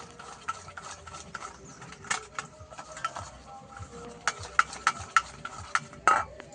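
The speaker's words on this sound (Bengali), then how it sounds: "ময়দার একটা সুন্দর ব্যাটার বানিয়ে নেব।" A spoon clicks and scrapes in a bowl while flour and cold water are stirred into a batter, with scattered sharp taps over a soft, quiet wet mixing.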